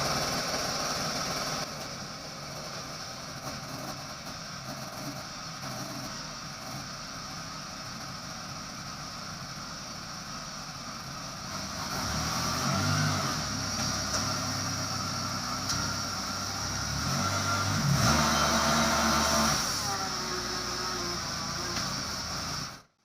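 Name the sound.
engine running and revving after carburetor adjustment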